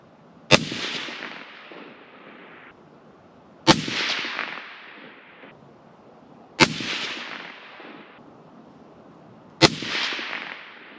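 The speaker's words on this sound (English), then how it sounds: "I'm gonna shoot a group and then move my 0 and shoot a final group" Four loud Savage 110 precision rifle shots at even intervals of about three seconds, each a sharp crack followed by a long rolling echo that fades before the next.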